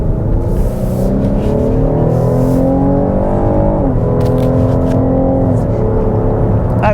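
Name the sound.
2022 Cadillac XT6 SUV accelerating in sport mode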